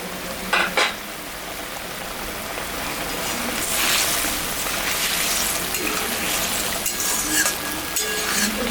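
Poppy seed gravy at a boil in a pan, hilsa fish being added, with a continuous bubbling sizzle, a couple of clinks of utensils near the start, and light stirring scrapes throughout.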